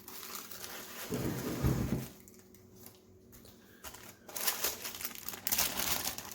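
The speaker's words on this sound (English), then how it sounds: "So it comes in some heavy duty foam packaging" Heavy-duty foam packaging from a microphone accessory kit is handled at close range, giving bursts of crinkling, rubbing and squeaking with quieter pauses between them and no speech.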